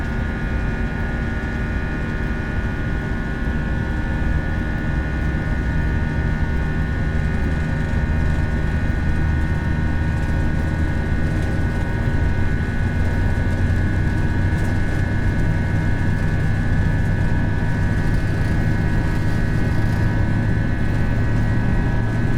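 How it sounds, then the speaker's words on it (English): Airliner jet engines roar steadily at full takeoff thrust during the takeoff roll of United flight UAL9858, a loud continuous rumble with a sustained whine, heard from inside the aircraft without speech. "Takeoff thrust set."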